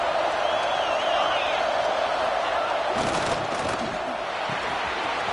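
Big stadium crowd in a Madden football game, near the goal line, as a steady dense roar throughout, with some louder swells partway through and no clear talk.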